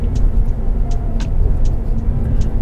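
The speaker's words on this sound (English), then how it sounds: "the vehicle will try to accelerate to 90 as quickly as possible" A Toyota Veloz 1.5 accelerates toward 90 as a steady, loud engine and road rumble from inside the car, with faint ticks and clicks now and then.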